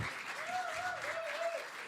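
Live audience applause in a small venue, a steady wash of clapping heard throughout, with a whistling or cheering voice gliding over it partway through.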